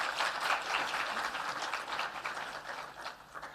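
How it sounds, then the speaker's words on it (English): An audience at a dialogue event on a survey report for North West Province gives a sustained round of applause. Many hands clap in a steady, full wash that dips slightly near the end, with no one speaking over it. "Can we please give them another round of applause?"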